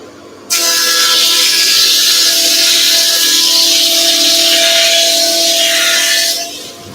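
A planer thicknesser taking a heavy cut on a wooden board roars loud and steady for about six seconds, a dense high whine with tonal hums, starting abruptly and tapering off at the end.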